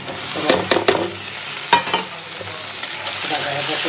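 Spices are stirred and fried in a pan, with a steady sizzle under several sharp scraping strokes of a spoon against the metal, loud and close.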